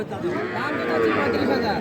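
A 10–11-month-old red native cow at a cattle market lets out a drawn-out, low moo nearby, a single call lasting nearly two seconds amid faint background murmur.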